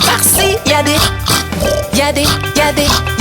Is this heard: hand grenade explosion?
no